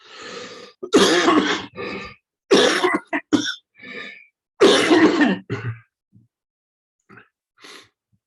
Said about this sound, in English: I've got a bad cough at the moment.